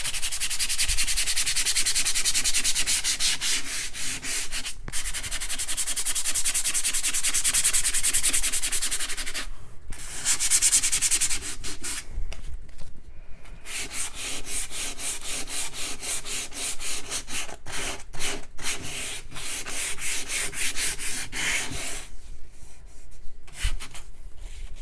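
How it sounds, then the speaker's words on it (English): Hand sanding of wood with 120 grit sandpaper: steady close scratchy rubbing strokes in a continuous rhythm, with a few brief pauses between passes and no talking. "So I'm just going to sand down some of these bigger bumps really quickly."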